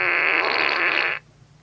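A farting novelty product held close to a microphone lets out one loud, sustained buzzing fart that stops abruptly after about a second, followed by quiet.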